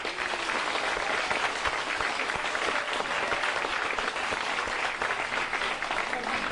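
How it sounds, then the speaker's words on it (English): An audience at a candidate forum gives the panel a big round of applause, a full, steady roar of many hands clapping that stays loud and even throughout. "let's give a big round of applause for our panel"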